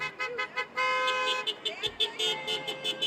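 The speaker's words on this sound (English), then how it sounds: "see if the neighbors will honk as they come by" Car horns honk repeatedly during a neighborhood birthday drive-by, short toots and one long blast overlapping, with traffic noise and voices in the background.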